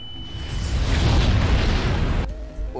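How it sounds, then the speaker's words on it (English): Bombs going off in Garry's Mod, a long loud roaring blast that rumbles for over two seconds, then cuts abruptly to quieter game sounds and faint electronic tones. "You activated the bombs!"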